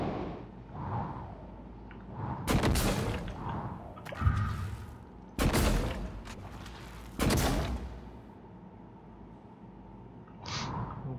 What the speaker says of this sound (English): I've got plenty of ammo for the glue cannon